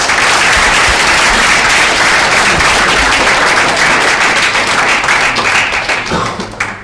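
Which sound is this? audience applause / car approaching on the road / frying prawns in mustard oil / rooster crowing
audience applause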